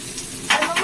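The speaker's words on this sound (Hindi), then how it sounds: "अब इसमें कैप्सिकम डालूंगी।" Chopped capsicum dropped into a hot frying pan for chili chicken, a brief loud burst of sizzling that flares up suddenly and holds for a moment; no talking.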